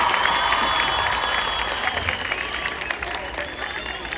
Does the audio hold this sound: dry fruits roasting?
no